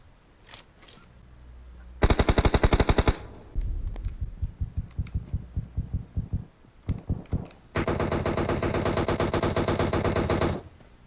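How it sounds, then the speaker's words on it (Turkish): Automatic rifle fire in PUBG Mobile on the Livik map, heard as loud, close, rapid bursts: one short volley, then a run of separate single shots, then a longer sustained burst, with quiet gaps between. "Nereden sıkıyor lan"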